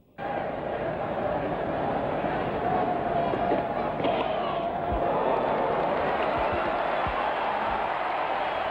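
Crowd at a 1987-88 Australia vs New Zealand cricket match, a sustained broad roar rising right after onset and holding steady throughout, with faint bat or ball knocks underneath.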